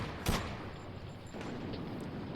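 Rapid gunfire in Paranormal Psychosis, a Digital Homicide video game, crackling in a dense continuous burst with a few louder shots standing out over steady background noise.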